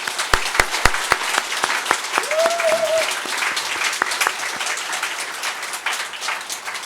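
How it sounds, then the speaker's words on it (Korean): A church congregation at a Sunday service breaks into applause for the church elders, opening with a few sharp individual claps before settling into a steady, fairly even wash of clapping. "박수 한번 쳐주세요"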